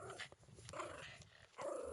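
A dog growls in a video game, low rumbling snarls running through most of the stretch and swelling louder near the end, with no talk over it.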